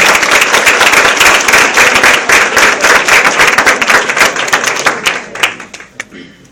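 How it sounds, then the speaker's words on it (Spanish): A church congregation applauds a welcomed visitor with loud, dense clapping that holds steady, then thins into scattered claps before fading out. "Un aplauso, por favor, para ella."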